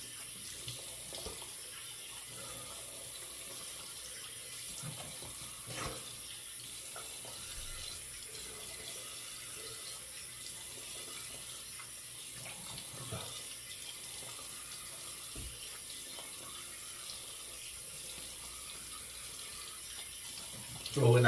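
Tap water runs steadily into a sink for rinsing during a wet shave lather test with Abbate y Mantia Blue Tobacco hard shaving soap, a continuous broadband splash with no voices.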